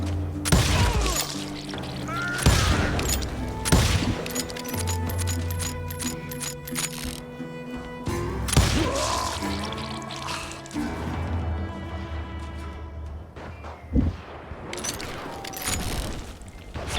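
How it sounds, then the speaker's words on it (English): Gunshots ring out in the Western video game Call of Juarez Gunslinger, a series of sharp, loud cracks spaced irregularly over a droning game soundtrack. "I heard the shots and I knew I had to move"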